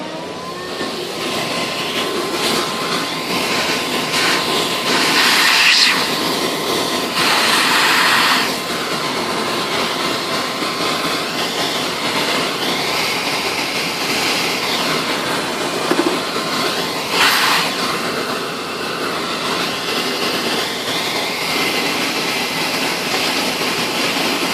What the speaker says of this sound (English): So time to vacuum.